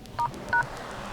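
Two short touch-tone beeps from a Xiaomi Redmi A1 phone keypad while a secret code is entered, each a clean dual tone with a brief gap between them, close and clear over a quiet room.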